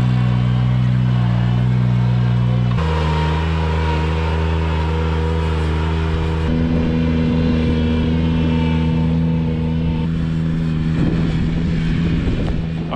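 Ventrac 4500z compact tractor being driven, its engine a loud, steady tonal drone that shifts pitch as it changes speed, heard close up with no talk.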